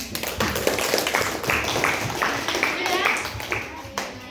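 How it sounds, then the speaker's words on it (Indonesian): A small group claps steadily for several seconds, moderately loud and close, with some background voices mixed in. "beri kita tepuk tangan"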